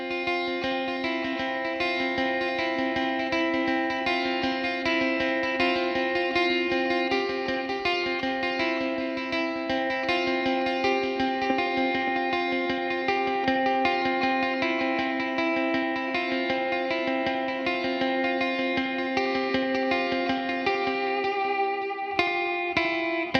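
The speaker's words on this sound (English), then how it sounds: "Here's some delay. Let's add some reverb to it." Guitar through a Line 6 POD HD500X with delay and reverb rings out in long sustained chords, a steady wash of echoing notes that hold for over twenty seconds before a brief change near the end, no voices.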